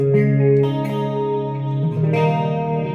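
Electric guitar through a BOSS ME-80 multi-effects unit with a shimmering chorus effect, sustained chords ringing out with a wide, wavering tone, played alone and fairly loud.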